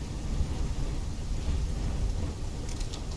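Heavy rain falls steadily with a low, rolling rumble of thunder during a storm in Call of Duty: Black Ops 3, a dense, continuous wash of sound with no voices.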